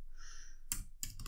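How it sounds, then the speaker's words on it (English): Keystrokes on a computer keyboard as a command is entered in a digital forensics exercise, two short bursts of close clicking after a quiet moment, with no talking. "So we type that in."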